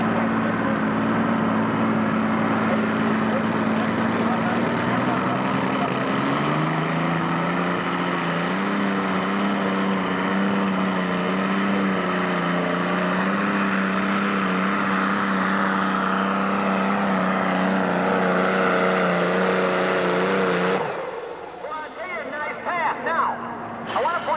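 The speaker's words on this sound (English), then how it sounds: "It's an alcohol burning post-stock tractor." An alcohol-burning pro stock pulling tractor, the Fool's Gold, roars at a 1997 National Tractor Pulling Association event in Urbana, Ohio, a loud sustained engine drone that rises in pitch mid-run and cuts off near the end.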